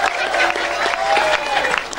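Applause from a gathered audience at a religious talk, brief dense clapping with some crowd murmur beneath, steady and fairly close for a couple of seconds.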